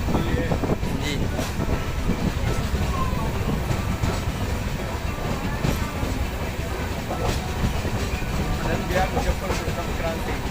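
Champaran Humsafar Express rolling along inside a sleeper coach, with a steady, close rumble and rhythmic clickety-clack of wheels over rail joints filling the whole stretch; voices murmur faintly in the background.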